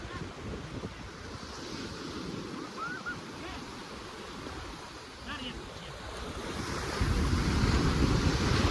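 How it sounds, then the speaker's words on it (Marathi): Surf rolls and washes steadily on Vayangani beach with wind buffeting the microphone, growing louder toward the end; faint voices can be heard in the background. "मॉली घाबरता आमचा समुद्रात पाण्यातच घाबरता"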